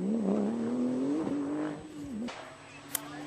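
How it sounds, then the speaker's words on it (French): A Ford rally car works through a delicate braking phase on a slippery stage at the 2014 Rallye du Limousin, its engine note dropping and rising in a close, loud rasp before fading, with a brief sharp click near the end. "Frédéric Rénal et sa Ford, lui, eh bien, va nous offrir une belle figure ici. Freinage délicat dans des conditions encore piégeuses."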